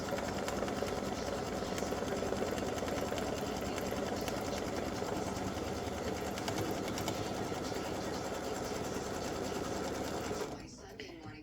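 An embroidery machine stitches a decorative heart fill for a Valentine's Day in-the-hoop mug rug panel, running loud and steady with a rapid continuous whir for about ten seconds before stopping abruptly.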